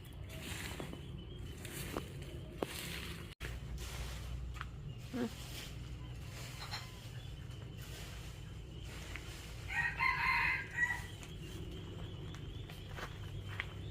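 A rooster crows once at a distance, faint against steady background noise, footsteps and scattered knocks.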